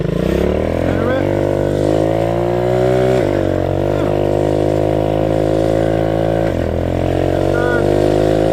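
Small Honda 50 mini bike engine running loud and close as it is ridden, revving up through gears with a rising buzzing drone and brief drops at each shift.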